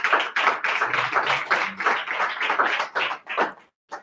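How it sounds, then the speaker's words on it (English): A small audience at a startup pitch event claps in an uneven, fairly sparse rhythm of distinct hand claps for about three and a half seconds before stopping. "A big applause."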